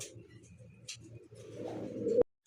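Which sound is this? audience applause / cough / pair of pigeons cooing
pair of pigeons cooing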